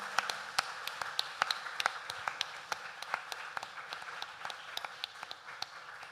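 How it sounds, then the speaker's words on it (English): An audience at a school assembly applauds students after a Grade 12 performance poetry show, giving a steady patter of many hands clapping that fills the room evenly and stays moderately distant throughout. "Can we have one more round of applause for them?"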